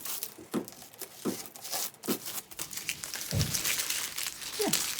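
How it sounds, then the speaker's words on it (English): Masking tape is peeled off a watercolour painting of a sailing boat in a stormy sea, giving close, crinkly tearing and crackling strips in irregular bursts that grow denser toward the end. "I will do the nice bit and take off my masking tape"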